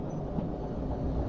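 Train in Derail Valley pulling away in reverse with brakes released, a steady low rumble and grinding of wheels and wagons close by, with no talk.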